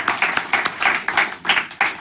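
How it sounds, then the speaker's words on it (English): An audience at a lecture event claps for the co-organizers, a short run of brisk, evenly spaced claps, close and clear, lasting about two seconds. "I think we can also give them a hearty clap for being very helpful."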